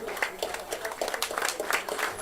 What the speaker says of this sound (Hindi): मंत्री जी का बहुत जोरदार तालियों से स्वागत करें।